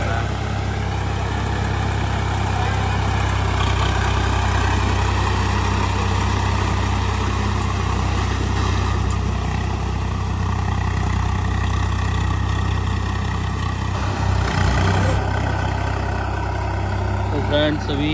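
Swaraj 855 FE tractor from around 2013–2015 working a wet paddy field, its diesel engine running with a steady, loud, low rumble throughout and a brief burst of extra noise near the end.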